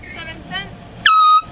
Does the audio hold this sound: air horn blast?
yes